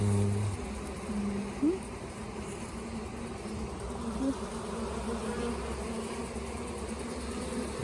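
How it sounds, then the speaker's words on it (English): Steady low buzzing of many honeybees in a hive box, close and continuous, with a faint background hum and no talking. "there's a lot of bees on the side of the box inside there."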